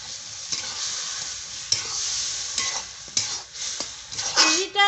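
Semolina pilaf being stirred in a pan over low heat with a steady, close sizzle and repeated scraping strokes of a spoon against the pan, ending with a brief clink of metal.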